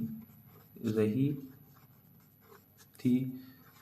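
Scratchy writing strokes on a board, close and fairly soft, come in short stretches between bursts of someone speaking Hindi.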